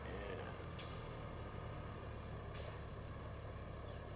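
Truck air brakes on a loaded work truck, two sharp hissing bursts of released air about two seconds apart over a steady low idling engine rumble.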